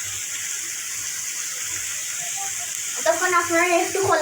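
Spice paste sautés in oil while a hilsa and green banana curry is being made, a continuous close sizzle running throughout, with a voice speaking over it toward the end.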